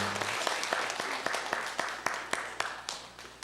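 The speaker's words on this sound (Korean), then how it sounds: "우리 하나님께 영광의 박수 올리겠습니다." A church congregation breaks into applause of praise during a Korean worship service, with dense clapping and sharp individual claps standing out across the whole stretch, with a brief low hum at the start.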